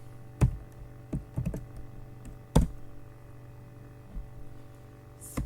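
Computer keyboard keys clack in scattered bursts while code is entered, a few louder thumps among softer taps over a low electrical hum, close and quiet.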